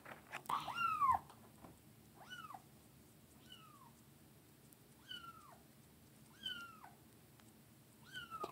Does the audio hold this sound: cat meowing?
yes